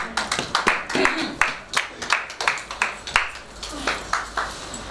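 A church congregation claps in a lively, rhythmic beat, with many hands striking together in sharp, regular bursts close by, and faint voices mixed in.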